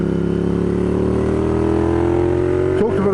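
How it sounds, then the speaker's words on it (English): A V-twin motorcycle engine braking, a steady close droning rumble with stable harmonics that dips and wavers briefly near the end. "One of the things I love a V-twin for is the engine braking."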